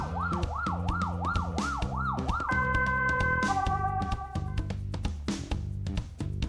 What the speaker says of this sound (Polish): Gdy ktoś potrzebuje pomocy, jedzie z włączoną syreną.